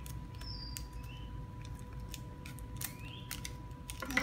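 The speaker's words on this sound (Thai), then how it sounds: "เอากรรไกรตัดนี่เลยค่ะ" Scissors snip a few times close by at a quiet table, with faint bird chirps in the background and no talk.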